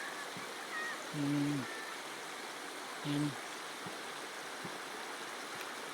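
Dumalon River in Tulungtong, Zamboanga City, flowing as a steady broadband rush of stream water, with someone briefly speaking over it.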